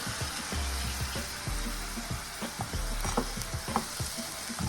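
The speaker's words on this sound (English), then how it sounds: "Now we're gonna add in our cashews that was soaking in our water." Soaked cashews hit a hot pan already holding oregano and rosemary, bringing a steady close sizzle of frying with repeated clattering stirring strokes throughout and no talking.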